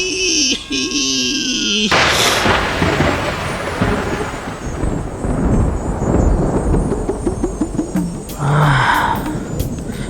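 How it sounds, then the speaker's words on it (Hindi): Thunder cracks during a storm in a Hindi TV serial scene, a sudden loud burst that rolls and rumbles for several seconds, with other dramatic sound effects before and a brief tonal cue near the end. "बिजली कड़की है"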